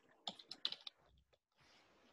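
Quiet computer keyboard typing during a classroom programming lesson: a short, uneven burst of key clicks, then a pause and soft background hiss.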